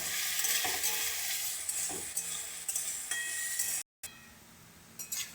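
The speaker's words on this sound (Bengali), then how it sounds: "আর একটু ভেজে নেব।" Potatoes frying with chopped green chillies and a little turmeric in a pan, a continuous close sizzle broken by repeated scraping stirs of a spatula, with a short silent gap near the end.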